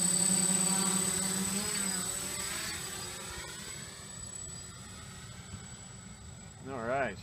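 An X-Quad X450 quadcopter drone flying outdoors, a steady buzzing whine of rotors that is loud at first, then fades slightly as it moves away, with a brief surge at the end.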